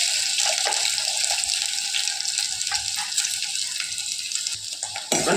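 Onion pieces frying steadily in hot oil with fennel seeds, a continuous bright sizzle running close and fairly loud, with a few stirring scrapes near the end.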